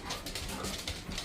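Puppies whimper and yip at close range in a short burst of repeated high, thin cries over a steady background.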